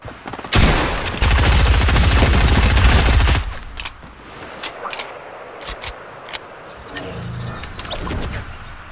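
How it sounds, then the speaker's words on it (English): Automatic gunfire in a Fortnite squads match, a long loud continuous burst followed by scattered single shots and short bursts, some nearer and some farther off. "Where's this gunfire coming?"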